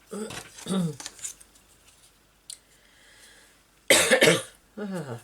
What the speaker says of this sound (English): Bit of a cough today, I'm not sure why. It's an asthma type cough